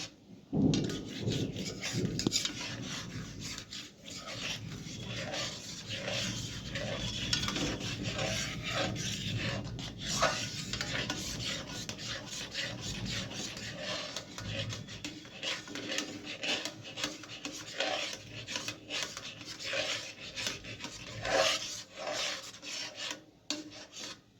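A spoon stirs and scrapes thick mango pulp in a pan, making a continuous gritty rasping and rubbing with faint clinks against the metal, steady and close for the whole stretch with no talking.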